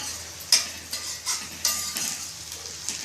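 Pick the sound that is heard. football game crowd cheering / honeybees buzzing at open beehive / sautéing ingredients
sautéing ingredients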